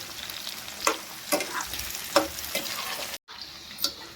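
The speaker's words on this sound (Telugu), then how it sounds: "అయిపోయింది చిక్కుడుకాయ ఫ్రై ఇట్లా ఫ్రై కావాలి ఆయిల్ పోసుకొని ఇట్లా ఫ్రై కావాలి" Broad beans (chikkudukaya) frying in oil in a pan, a close steady sizzle broken by several distinct stirring scrapes at irregular intervals and a brief cut near the end, no voices.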